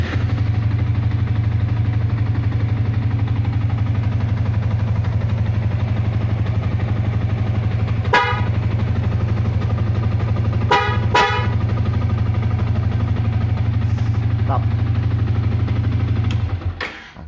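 A Bosch Evolution horn fitted to a motorcycle sounds in three bursts, one short toot followed by two closer blasts, all over the steady hum of the idling motorcycle engine.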